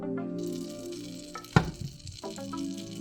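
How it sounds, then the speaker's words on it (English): Butter sizzling as it melts in a hot pan over medium-high heat, a close, steady frying crackle with a brief louder burst and some stirring in the middle, with no voices. "Melt 1 tablespoon of butter in same pan over medium-high heat"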